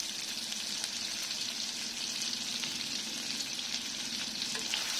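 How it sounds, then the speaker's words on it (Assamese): Dal cooking in a pan with turmeric and salt, giving a steady, even sizzle and bubbling hiss throughout, close by, with faint stirring scrapes and no talk. "এতিয়া আকৌ এইখিনি মই পুনৰ লৰাই দিম।"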